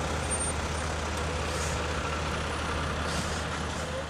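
Diesel trucks idle and rumble past at a busy freight site near a port, a continuous loud low engine drone with a faint hiss on top, no voices.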